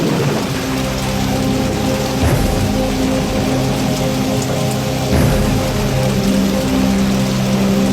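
Steady rain falls heavily on surfaces around a forest setting, a constant hiss and patter with a low rumbling undertone like distant thunder, continuing without voices.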